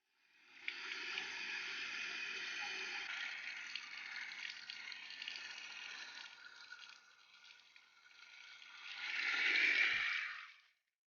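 Hissing rush of water forced through a Honda Civic SiR car radiator, steady for several seconds, easing, then surging louder before stopping abruptly.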